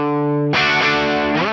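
Les Paul electric guitar through an Axe-Fx 3 AC20 EF86 treble amp model, a clean sustained chord followed by a loud, gritty, chimey overdriven strum ringing out, then another strum near the end.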